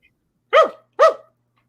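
A person imitating a small wiener dog barking, two sharp close woofs in quick succession, loud and alone against silence.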